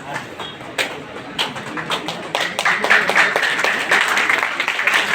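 Audience applause at an anniversary and felicitation event, with scattered claps that build into steady clapping from a crowd, a few voices mixed in.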